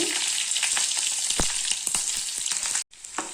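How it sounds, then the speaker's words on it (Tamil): Garlic and curry leaves fry in hot oil with a steady, close sizzle and sharp crackling pops, cut by a brief silence near the end before the frying resumes. "பூண்டு கருவேப்பிலை நல்லா பொரிஞ்சிருச்சுங்க."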